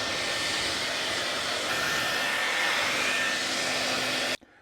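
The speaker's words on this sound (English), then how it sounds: "Now, blow dry your comically large mustache." A hair dryer blows on a large mustache, giving a loud, steady, breathy whoosh at close range. The airflow holds even for about four seconds, then cuts off abruptly.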